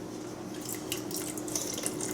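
Broth pours into an Instant Pot pressure cooker with a soft, steady splashing and trickling, close by and fairly quiet.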